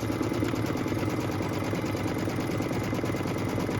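A sewing machine stitches a placement line on fabric for a barn appliqué project, running at a steady, continuous mechanical whir throughout, close and moderately loud with no talk.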